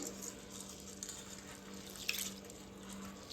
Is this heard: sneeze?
no